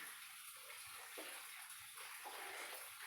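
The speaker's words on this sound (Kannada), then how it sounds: "ಅದಕ್ಕೆ ಈ ಕಬಾಬ್ ಪೀಸನ್ನು ಹಾಕ್ತಿದ್ದೇನೆ." Kebab pieces drop into hot oil and fry with a continuous, faint bubbling hiss. The sound stays even throughout, and nobody speaks.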